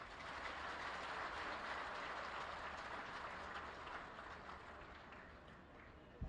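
A large audience at a Delhi government event claps together on request, a dense, fairly distant wash of applause that holds steady and then slowly fades.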